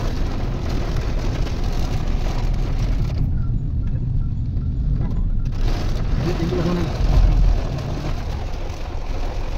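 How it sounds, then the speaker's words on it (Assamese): Heavy rain pouring onto a road, a dense continuous hiss with the low rumble of a passing vehicle, while a voice talks faintly in the background. "ৰাস্তাত চাওকচোন ইমান ডাঙৰ বৰষুণ"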